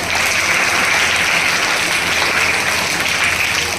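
Loud, steady applause from an audience at a ceremony honouring schoolgirls with Kanya Pujan, a dense continuous wash of clapping throughout.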